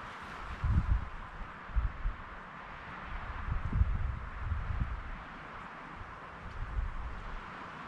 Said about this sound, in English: It's a little bit chilling. It's like pretty windy.